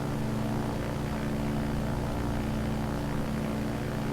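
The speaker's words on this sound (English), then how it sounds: "It's just such a nice plane to fly." Sting S4 ultralight propeller plane in Microsoft Flight Simulator 2020, a steady, even propeller engine drone in flight, continuous and loud with no talk over it.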